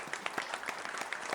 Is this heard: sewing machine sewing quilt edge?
no